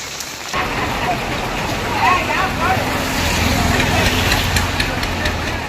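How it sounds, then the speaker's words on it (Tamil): Heavy rain pours steadily at Mayiladuthurai, a dense continuous hiss of downpour on surfaces with a low rumble underneath, loud and unbroken throughout. "மயிலாடுதுறையில் நேற்று இரவு முதல் கனமழை பெய்து வருகிறது"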